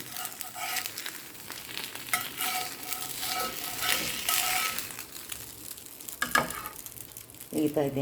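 Tomato dosa frying on a hot pan, a steady sizzle with scraping and stirring noises throughout, fairly close and moderately loud, with brief bursts of clatter near the end.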